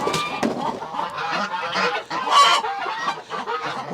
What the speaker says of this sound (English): I found my other goose.